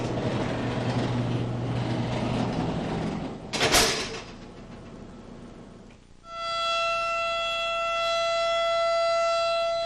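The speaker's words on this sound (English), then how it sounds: "A siren sounds at the White Correctional Center twice a day" A siren wails at the White Correctional Center, a steady tonal blast with stacked harmonics rising in after a broad rumbling, train-like noise and a sharp clatter, sounding loud and sustained to the end.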